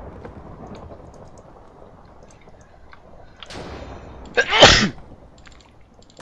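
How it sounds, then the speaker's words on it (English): A single loud, sharp sneeze bursts out close up over a quiet background of soft ambient noise during a Minecraft Hunger Games session. "nice sneeze."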